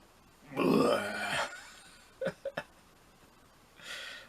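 A single long, loud belch from a person, close to the microphone, followed by a few short throat clicks and a faint trailing exhale.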